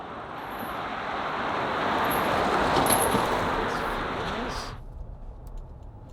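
GWM Cannon Alpha PHEV plug-in hybrid ute towing a low trailer over a bumpy road, a steady broadband roar of tyres and cabin rumble swelling and then easing off near the end, with no talk.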